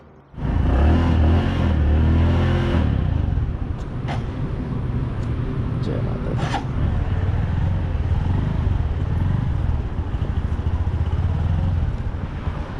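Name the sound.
Bajaj Platina 110 motorcycle riding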